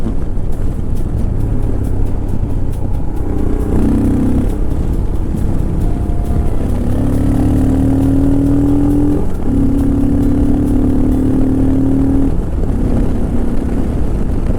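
A modified Royal Enfield Himalayan 411 fitted with Decata, DNA and FuelX parts, ridden on the road: a steady loud engine drone with rising and falling tones as it pulls, under constant wind rush, no voices.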